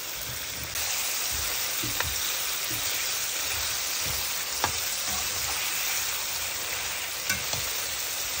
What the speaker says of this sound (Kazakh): Осы майына әбден қуырып аламыз